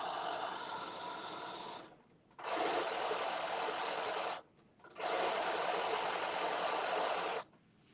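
A sewing machine fitted with a ruffler attachment runs in two long bursts of rapid, steady stitching, separated by short pauses, close and moderately loud, with no voices.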